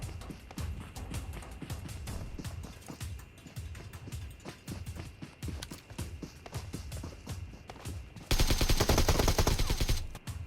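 Gunfire in a PUBG Mobile match rattles in rapid bursts over footsteps and movement, ending in a louder, denser burst of shots near the end.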